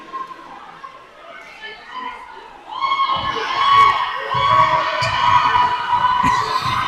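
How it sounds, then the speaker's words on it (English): A basketball student section screams and cheers, the roar swelling loud after a quieter stretch of crowd noise, with shrill shouts and whistles rising over the sustained din. "the student section, if you can hear it, screaming like banshees"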